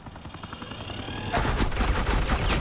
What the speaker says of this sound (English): This is Agent Quinn, suppressing fire.